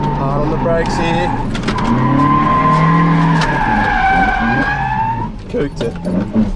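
A Toyota MR2's tires squeal in long, loud skids on a wet track as the engine whines, the screech rising and fading over several seconds.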